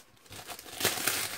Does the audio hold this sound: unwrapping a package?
yes